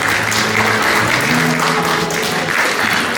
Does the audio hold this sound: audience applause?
yes